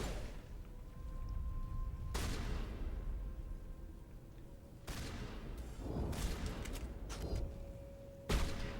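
Gunfire in the Mass Effect video game at Zhu's Hope, with several sharp loud bursts spread through a continuous low rumbling backdrop, each blast followed by a decaying tail.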